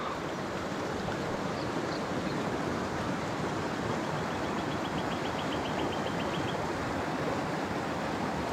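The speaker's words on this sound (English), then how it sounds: "That is an insane amount of water for this little creek" Small creek running at high water after heavy rain, a dense, steady rushing roar with no breaks, close and fairly loud, a faint bird chirp just audible above it.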